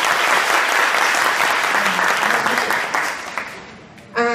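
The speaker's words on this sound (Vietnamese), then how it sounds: "Hãy dành một tràng pháo tay để cảm ơn offline của mình" A loud burst of audience applause at a success-story sharing event, steady at first and then thinning out near the end before a short sharper sound.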